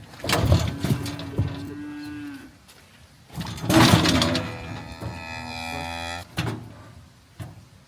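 A cow on a farm, restless during a bovine tuberculin test, lets out two long loud moos close by, separated by a short pause, with a brief thump or clatter at the end.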